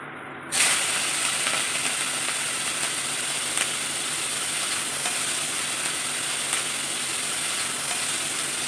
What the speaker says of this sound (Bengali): সরিষার তেল দিয়ে মাছগুলিকে রান্না করব